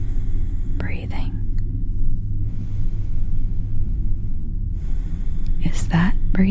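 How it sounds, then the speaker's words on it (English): Slow, heavy breathing in pitch darkness, part of an audio-drama nightmare set on a train: soft breathy inhales and exhales rise close by over a steady low rumble, with no talking. "Is that breathing coming from next to you?"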